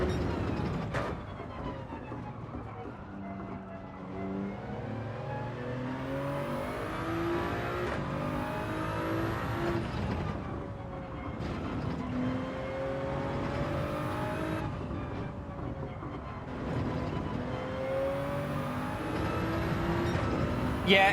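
Race car engine in Gran Turismo 7 during a lap, revving up and shifting repeatedly with rising pitches, loud and continuous with brief dips between gears.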